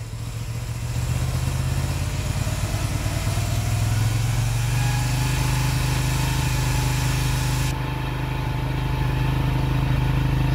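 A Moto Guzzi V7 850 motorcycle with a custom exhaust revs up and holds a steady high-rpm drone for about ten seconds, loud and close, with no talk over it.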